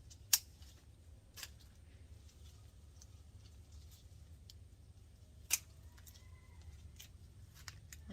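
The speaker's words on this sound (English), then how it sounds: "And yes, I'm using my kitchen shears." A few sharp snips of kitchen shears cutting back a flowering garden plant, about four crisp clicks spaced seconds apart over a faint outdoor background.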